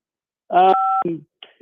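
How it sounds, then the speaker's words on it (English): A phone gives a short electronic beep, a steady two-tone burst of under a second, during a lively radio talk show. Voices can be heard around it. "You also beeped the phone"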